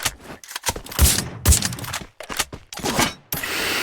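Bursts of video game gunfire in a tournament match, rapid clustered shots and sharp cracks broken by short gaps, loud and close, with a steady hiss of game ambience near the end.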